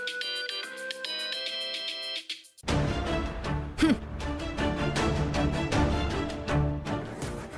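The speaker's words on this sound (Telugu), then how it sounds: "ఫోన్ లిఫ్ట్ చేయరా, ఫోన్ లిఫ్ట్ చేయరా, ఫోన్ లిఫ్ట్ చేయి." A telephone ringtone chimes in a repeating melodic pattern for a couple of seconds before loud dramatic music takes over, in a Telugu TV serial scene.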